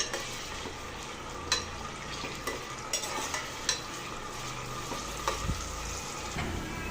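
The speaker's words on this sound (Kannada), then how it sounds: "ಈರುಳ್ಳಿ ಫ್ರೈ ಆಗೋ ತನಕ ನಾವು ಚೆನ್ನಾಗಿ ಗೋಲ್ಡನ್ ಬ್ರೌನ್ ಬರೋ ತನಕ ನಾವು ಫ್ರೈ ಮಾಡ್ಕೊಳ್ಳೋಣ" Onions for mutton sambar fry in a pan toward golden brown, giving a continuous soft sizzle with repeated spoon scrapes and light clinks of utensil on metal, close and fairly quiet, with no voices.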